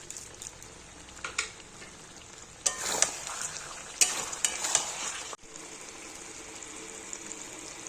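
Chicken kosha with yogurt sizzles and sautés in oil in a pan, with bursts of loud frying and scraping stirs that rise and fall, then an abrupt cut to a quieter steady sizzle.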